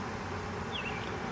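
A steady, low hum of many agitated, queenless honeybees buzzing together in a hive, soft and continuous, with one brief higher whine rising above the drone.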